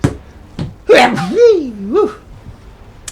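A single loud human sneeze bursts out close by with a sharp explosive onset and a trailing tonal wheeze, followed by a brief spoken word.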